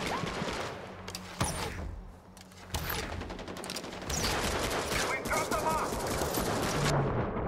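Bursts of gunfire crackle through a Far Cry 4 multiplayer capture-the-flag match, with sharp individual shots early giving way to sustained rapid fire, while players talk excitedly over it.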